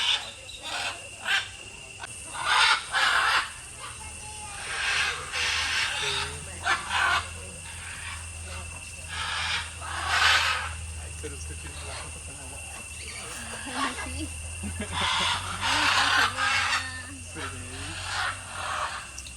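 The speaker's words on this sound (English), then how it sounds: "So we're now in the breeding sanctuary for the macaws." Macaws calling from enclosures in a Nicaraguan breeding sanctuary, a series of loud, harsh bursts recurring every couple of seconds over a steady low hum, with a voice speaking between the calls.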